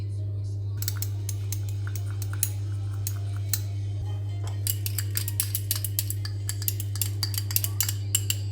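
Melted Olivem 1000 emulsifying wax stirred in a double boiler, with a quick run of small clinks and taps of a utensil against the container over a low steady hum.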